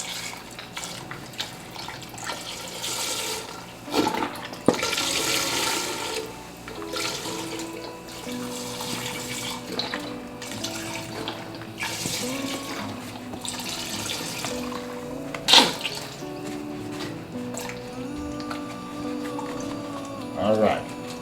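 Chicken broth is poured into a pot in a home kitchen, a continuous splashing liquid stream with uneven gurgling surges, heard close under someone talking.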